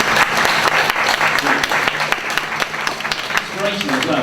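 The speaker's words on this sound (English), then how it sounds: "that's round of applause" An alumni event audience gives a round of dense, steady applause lasting a few seconds, while a voice carries on talking over the clapping.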